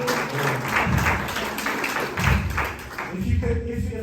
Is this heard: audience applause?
yes